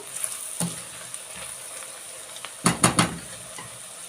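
Onions fry in a pan and are stirred now and then, a faint sizzle broken by a few sharp scraping stirs, one early and a cluster of three near the end.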